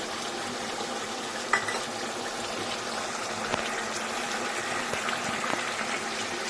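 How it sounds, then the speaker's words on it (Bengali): Homemade biryani masala for prawn biryani sautéed in a pan, a steady soft sizzle with a few faint scrapes and clinks of stirring, close and continuous, no voices. "মশলাটা এই যে কষাচ্ছি"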